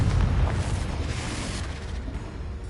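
A Confringo blasting spell explodes in Hogwarts Legacy, a heavy, rumbling boom that hits hard at the start and then rolls and fades over a couple of seconds, with no other sound around it.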